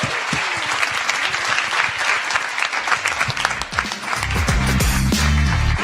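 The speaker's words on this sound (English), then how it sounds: "we'd better give a round of applause to David Smith." Sustained applause from a crowd at a startup demo day fills the room, loud and dense, with a voice rising over the clapping toward the end.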